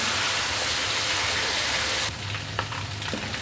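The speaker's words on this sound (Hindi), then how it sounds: "1 से 2 मिनट तक लहसुन अदरक को भी फ्राई करना है अपने ऑयल में" Garlic and ginger paste fries in oil in a pan, making a loud, continuous sizzle that drops somewhat halfway through, with a few small pops and clinks afterwards.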